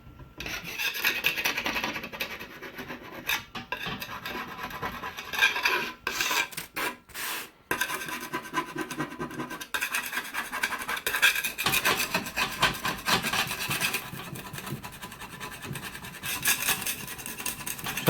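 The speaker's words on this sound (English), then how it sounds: "remove the first part of the rust, which is too hard to be removed by the sanding block" Steady abrasive scraping and rasping of sandpaper over a heavily rusted steel paella pan, with a few short pauses, continuing for a long stretch.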